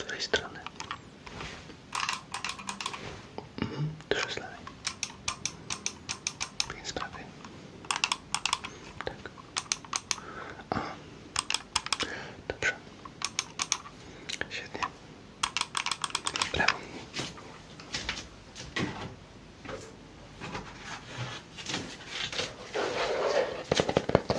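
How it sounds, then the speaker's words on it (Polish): Computer mouse buttons clicked in a soft-spoken ASMR setting, giving many sharp close clicks in irregular bursts over about twenty seconds, some alternating side to side, with quiet whispering between them. "Teraz będę klikać przyciski na myszce"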